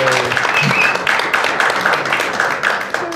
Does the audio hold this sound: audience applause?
yes